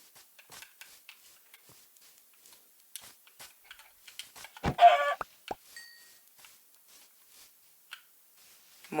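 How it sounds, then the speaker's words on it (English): Minecraft chickens cluck in short, quiet, sparse blips alongside soft ticking game sounds, with one louder cluster of clucks midway and no talking. "Chickens."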